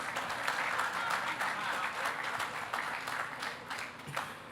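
Applause from an audience at the official opening of the Kingston Logistics Park: dense, steady clapping that carries evenly through the whole stretch, with no voices standing out.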